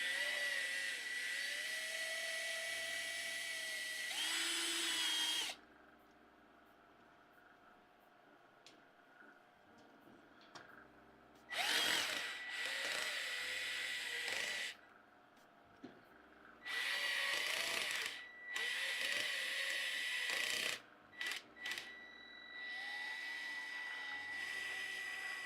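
An electric drill spins freely without biting into anything during a CNC mill build, its high whine starting and stopping in several bursts of a few seconds each, separated by quiet gaps, close and fairly loud with no talking.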